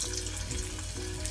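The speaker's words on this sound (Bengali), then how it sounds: "তো এই মাছটাকে এখন আমি এই ভাজবো" Baim fish frying in oil in a wok on a stove, a steady, close, dense sizzle that holds evenly for the whole short stretch with no voices over it.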